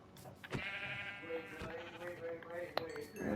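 A sheep in a video game bleats in a drawn-out, wavering call, loud and close, with a few clicks and game sounds around it and no talking.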